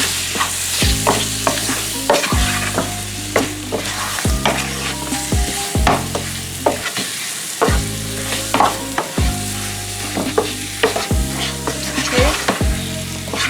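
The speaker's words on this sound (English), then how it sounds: "I'm gonna go ahead and add my chicken. And then coat it." Chicken pieces sizzling and being stirred through curry in a pan for Jamaican-style curried chicken, with repeated scraping stirs over a loud, continuous fry; a single brief word is spoken.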